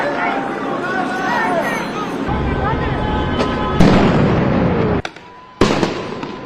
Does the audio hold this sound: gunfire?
yes